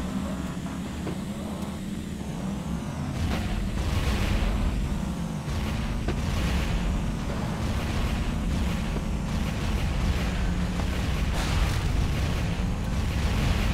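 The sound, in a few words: bomb and missile explosions in the video game Bombastic Cars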